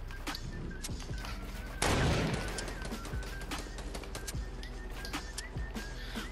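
Gunfire in the Fortnite battle royale game: a heavy burst of shots hits near, then a scatter of quicker, sharper cracks and pops follows at a moderate level, with no voices.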